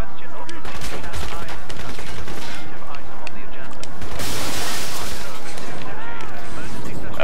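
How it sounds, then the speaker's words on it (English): Rapid gunfire in Crysis Warhead, loud continuous bursts of automatic shots and fusillade crackle across a dense, noisy battle mix, with a voice speaking partway through. "now who's shooting at me?"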